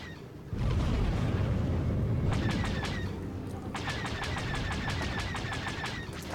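Rapid automatic gunfire in a video game crackles in two long, dense bursts of closely spaced shots over a heavy, steady rumble, loud and close, with no talking.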